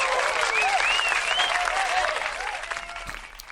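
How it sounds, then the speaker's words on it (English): A round of applause for Chicago on a hip-hop podcast: dense, steady clapping with cheering and whistles that holds strong, then thins and fades toward the end. "Let's give Chicago a round of applause."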